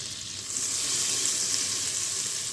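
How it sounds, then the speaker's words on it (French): Butter melts in a Cookeo pot while a silicone whisk stirs it, a steady bright sizzle that swells after a half second and holds, close and even, with no speech. "On fait fondre. J'utilise un fouet en silicone pour éviter de rayer la cuve."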